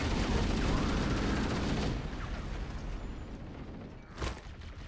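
Heavy gunfire in the Halo video game, a dense sustained barrage of shots and blasts for several seconds, loud and close, with a sharp burst near the end.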